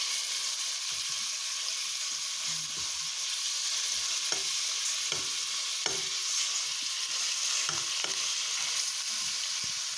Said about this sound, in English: I'm just sort of browning off my chicken a little bit